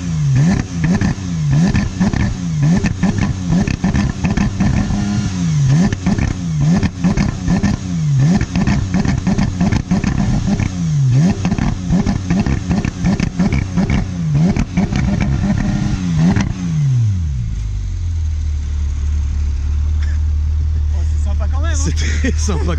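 A Porsche 991 GT3 engine revs hard over and over against a 4000 rpm limiter, with loud, rhythmic rising and falling sweeps. It then drops back to a steady idle while people talk over it.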